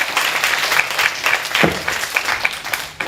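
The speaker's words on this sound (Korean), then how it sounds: "장두희 교수님을 큰 박수로 모셔주시기 바랍니다" An audience applauds loudly as a professor is welcomed at a lecture, with dense, sustained clapping from a large crowd that continues throughout and starts to fade near the end.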